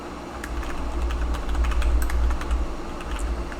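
Computer keyboard typing during a web development lesson on writing CSS, a steady stream of soft close key taps over a constant low hum, with no talking.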